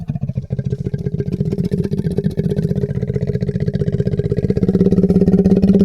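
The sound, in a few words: slowed-down wolf roars sounding like tractor or motorcycle engine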